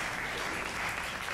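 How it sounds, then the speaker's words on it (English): Applause from an audience at a conference presentation, a steady dense wash of clapping filling the whole moment without any voices. "You may clap again."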